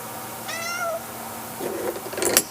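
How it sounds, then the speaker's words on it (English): A cat meows once, a clear rising-falling call up close, followed by light shuffling and rustling noises. "And the cat's out from under the bed."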